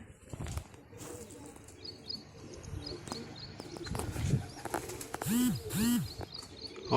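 Pigeons, including a green-winged, pink-beaked one, flying around outdoors give scattered chirps and a couple of louder warbling calls amid soft rustling and background noise.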